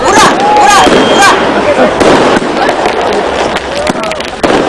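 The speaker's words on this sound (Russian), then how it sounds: "Они сделали салют!" Fireworks crackle and pop in dense bursts, with whistling streaks rising through the noise and voices cheering over the display.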